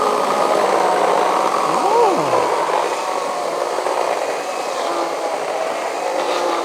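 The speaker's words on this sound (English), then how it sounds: "the first test for the chainsaw is the treated 6x6 with no pilot holes" A loud Ridgid chainsaw motor whines steadily as it bites into a treated 6x6 wood post, its pitch dipping and rising briefly under load before settling into a steady drone.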